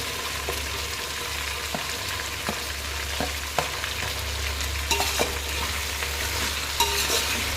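Curry leaves, onions and green chillies fry on high heat in a pan for mixed vegetable rice, a loud continuous sizzle with a steady series of spoon scrapes and taps as they are stirred.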